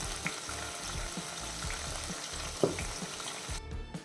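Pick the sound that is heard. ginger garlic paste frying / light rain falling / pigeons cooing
ginger garlic paste frying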